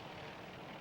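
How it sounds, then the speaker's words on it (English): Nearby helicopters near the perimeter of Jalalabad in Afghanistan, a steady loud rotor-and-engine drone filling the whole moment with no pauses. "The sound of nearby helicopters has stopped the patrol."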